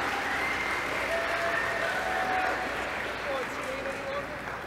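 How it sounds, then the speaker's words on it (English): Audience applause at a gaming convention panel on Smash Brothers, a steady wash of many hands clapping with faint crowd noise, fairly even throughout. "Round of applause for these guys and their amazing voices."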